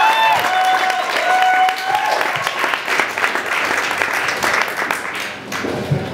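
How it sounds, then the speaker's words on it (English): Comedy club audience bursts into loud, sustained applause for the next comic on a 3rd Street stage, dense clapping with a few cheers filling the room and tapering slightly toward the end. "Everybody, big round of applause for Mr."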